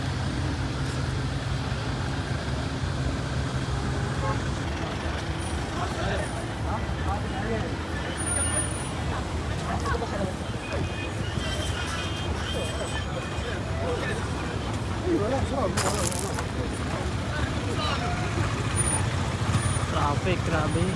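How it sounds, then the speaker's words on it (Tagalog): Heavy street traffic on Saudi National Day, with trucks, cars and buses idling and creeping past while a crowd walks nearby; a continuous loud engine rumble with hiss and occasional brake releases, and voices murmuring underneath. "Grabe ka traffic."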